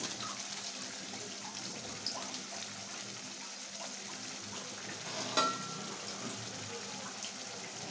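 A fish curry in yogurt and cashew paste simmers in a pan, a soft continuous frying hiss with faint scraping from stirring and one small clink, moderately quiet and steady, no speech.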